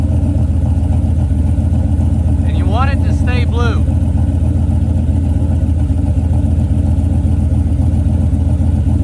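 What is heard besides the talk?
car engine idling during head gasket test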